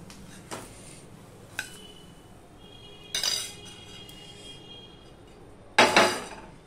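Dishes and utensils clink as food is served onto a plate in a home kitchen: four separate sharp metallic taps spaced a second or two apart, the last one loudest, with no talking.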